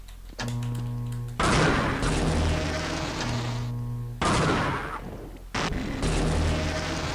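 Deep booming blasts in a video game, three big explosions each followed by a long rumbling decay, loud and close with a steady low hum underneath.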